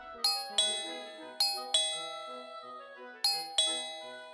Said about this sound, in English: I got woken up by the doorbell